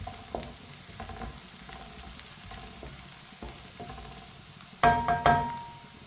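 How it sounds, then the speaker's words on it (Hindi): Onions browning in a pan give a low, steady sizzle, with spoon taps and scrapes against the pan throughout and a few louder clanks near the end. "प्याज को मैंने हल्का सा ब्राउन कर लिया है"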